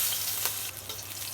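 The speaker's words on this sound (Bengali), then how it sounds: "হালকা করে একটু ভেজে নেব।" Onion, green chili and spices fry in hot oil for a katla fish curry, giving a brief, steady crackling sizzle heard close up without speech.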